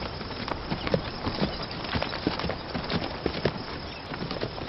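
Horse hooves clip-clopping at a steady walking pace, a close, continuous run of irregular clopping beats with no speech over them.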